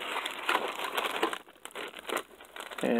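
Plastic bag packaging for tabletop wargame miniature figures crinkles and rustles in close handling, steady busy crackling that thins out midway and then picks up again.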